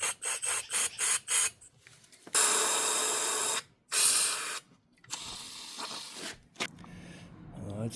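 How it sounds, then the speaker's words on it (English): Brake cleaner sprayed from an aerosol can through the valve cover baffles of a Hummer H3, starting as a run of short bursts, then long loud hissing blasts broken by pauses, close to the mic. "we're going to run some brake clean through here, just see what kind of crap comes out"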